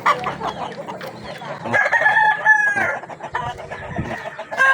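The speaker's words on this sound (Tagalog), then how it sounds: "dahil yung manok ni Lawin dito" Rooster crowing outdoors among a keeper's fowl, a loud drawn-out crow standing out over clucking hens and other farmyard birds, close and clear.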